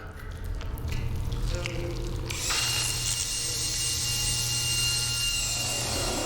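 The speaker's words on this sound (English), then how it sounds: "Let's try the drill next." A drill from the video game Stasis whirs and grinds mechanically for several seconds, the scraping texture turning into a higher, steadier whine partway through, with no talk.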